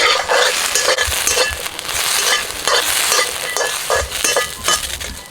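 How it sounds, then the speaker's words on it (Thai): Tilapia pieces being stir-roasted in a hot pan until the water cooks off, with a steady loud sizzle and repeated scraping stirs of the spatula throughout, no voices. "จะ คั่วให้น้ำแห้งเลยนะครับแล้วก็จะคั่วต่อไป"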